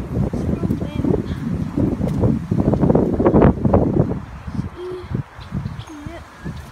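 Strong wind blows outdoors on a walk past tall buildings, a loud, buffeting rush that fills the first few seconds and then eases, with faint bird calls underneath.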